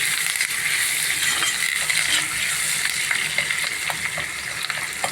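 Spices for a raw mango rasam tempering crackle and fry in hot oil, a steady bright sizzle with scattered pops and spatters running throughout, close and continuous with no voices.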